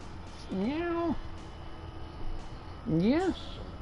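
A cat meows twice, clear and close, with the two rising and falling calls about two seconds apart over a low background hum.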